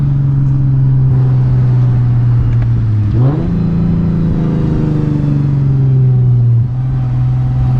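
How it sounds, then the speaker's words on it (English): Lexus GS350 F Sport driving with a loud, close, steady engine and exhaust drone that dips and shifts in pitch as the car changes gear, with a low rumbling burble underneath and no talking. "But oh, it's burbling now."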